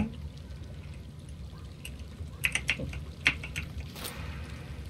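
Water poured from a bucket in Minecraft gives a soft splashing pour under a faint background hum, accompanied by a few sharp clicky blips bunched together partway through.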